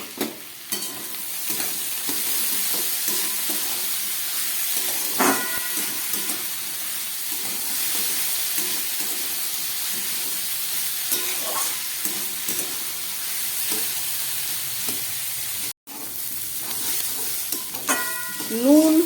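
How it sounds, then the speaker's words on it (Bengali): Potato, carrot, onion and capsicum fry in a pan, a continuous close sizzle and hiss broken by spoon scrapes and clatters of stirring, with one brief dropout near the end. "নুন হলুদ ছাড়া গাজর, আলু, পেঁয়াজটাকে আমি প্রায় 2-3 মিনিটের মতো ভালো করে ভেজে নিলাম।"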